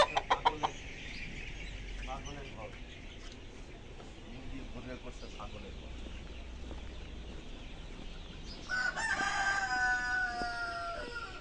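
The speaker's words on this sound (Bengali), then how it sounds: "এই যে সিল্কি মুরগি" A silkie chicken crows and clucks on a small farm, the calls moderately faint beneath steady background noise, with a louder burst of crowing near the end.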